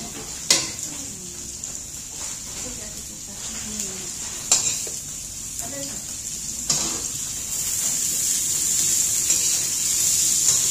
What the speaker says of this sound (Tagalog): Susunod mo ang bawang.